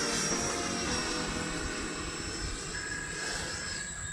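An RC model jet plane performs a rudder roll with aileron, its engine a steady, loud whine and rush that holds throughout with only slight swelling and easing.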